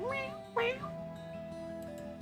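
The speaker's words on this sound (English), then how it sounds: "X is yowling. Like, meow." A pet cat named X yowling twice in quick succession, drawn-out rising meows heard over a steady background of music.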